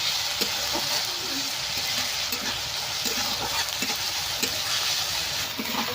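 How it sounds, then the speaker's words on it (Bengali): Ginger-garlic paste fries in a pan for a jackfruit and prawn curry. A dense, constant sizzle fills the whole stretch, with occasional soft stirring taps. "আদা রসুনটা ভালো করে একটু ভেজে নিতে হবে যাতে না গন্ধ থাকে আদা রসুনের"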